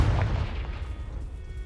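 A Confringo fire spell explodes in the Hogwarts Legacy video game, a loud low boom at the start that rumbles and fades into a dull roar over under two seconds, with no talking.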